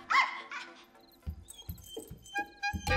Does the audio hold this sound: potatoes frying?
no